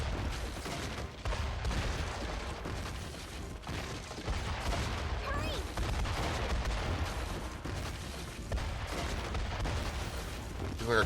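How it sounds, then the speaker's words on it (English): Dense, continuous barrage of explosions and gunfire-like booms from the video game Metaphor: ReFantazio, loud and sustained throughout with no clear gaps. "Why are there explosions,"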